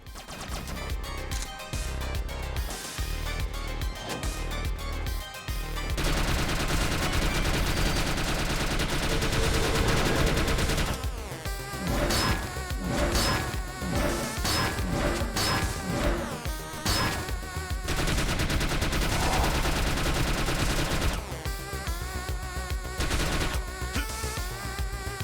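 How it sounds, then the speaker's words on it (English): Assault rifle firing in the retro-style game Mummy Demastered, rapid bursts of synthetic shots layered with dense, loud game music and effects, sustained throughout with brief pauses. "And that was our assault rifle."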